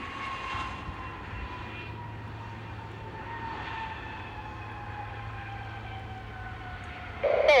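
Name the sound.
airplane at Buffalo airport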